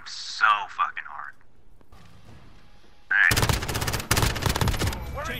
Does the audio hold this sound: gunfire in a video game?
yes